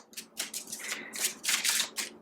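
Tarot cards being shuffled by hand, a series of crisp riffling and flicking bursts in an uneven rhythm, close and moderately loud, with no voices.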